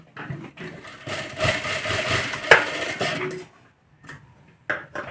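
A sewing machine runs in short bursts of stitching while putting tucks into a katori blouse, its motor whirring near and steady with brief pauses and a final quick burst.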